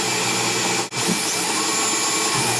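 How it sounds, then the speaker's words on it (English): Steady mechanical whir of a Tormach PCNC machine drilling holes with a carbide drill, running dry without coolant, with a brief dip partway through before the drone resumes at the same level. "carbide drill, so it should be able to cut without coolant"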